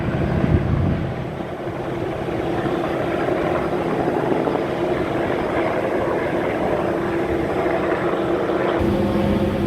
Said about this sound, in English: Here's this helicopter's banking around again.